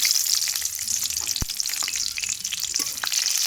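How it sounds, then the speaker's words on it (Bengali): Cut green chillies fry in hot oil, a loud, bright, continuous sizzle with scattered pops and one sharp knock partway through. "তো তেলে আমি লঙ্কা কেটে দেওয়া হচ্ছে মাঝখানে"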